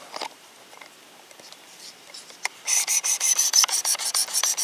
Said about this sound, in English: You can hear the difference in the grit running across this knife.